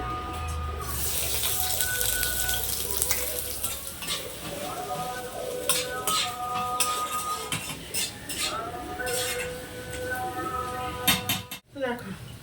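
Sliced onion hits hot oil in a kadai (wok), sending up a broad steady sizzle with clinks of a utensil and stirring scrapes, close and fairly loud, running for about twelve seconds.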